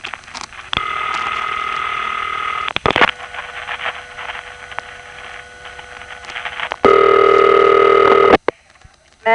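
Two long electronic ringback tones on a Bronx telephone exchange call through a panel switch, separated by a few seconds of quieter line noise, ending with a sharp click.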